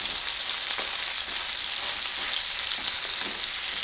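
Patties frying in a pan after being flipped, giving a steady, close, bright sizzle that holds evenly throughout with faint crackles and no voices.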